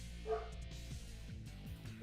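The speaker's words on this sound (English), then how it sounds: "what is Kevin barking at?" A dog barks indoors at home, a few faint, short yips and barks heard softly at a distance with quiet background sound.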